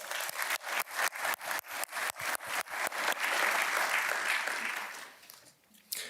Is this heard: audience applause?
yes